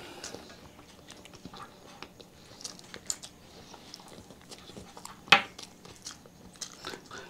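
Hard boiled eggs being chewed during an egg-eating challenge, close soft squishy mastication with occasional bites and one sharper crunchy click, no talk over it.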